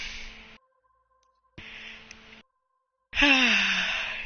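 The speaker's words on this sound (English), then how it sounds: "Sorry about my yawning" A person yawns several times in a row, with breathy, drawn-out exhalations and pauses of silence between them; the last yawn is the loudest, with a rising-then-falling voiced tone.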